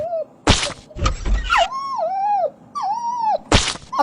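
A dog indoors whines and whimpers in rising, wavering cries, broken up by sharp thuds and knocks.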